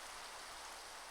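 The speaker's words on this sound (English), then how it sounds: "It's raining." Rain falls steadily in a Minecraft-style video game, a soft, even hiss of drops with no breaks, faint and alone without any talking.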